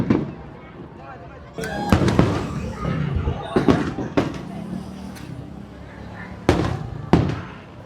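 New Year fireworks burst over Pattaya, Thailand, in scattered sharp bangs and crackles, some close and loud, spread irregularly through a steady hum of crowd chatter and background noise.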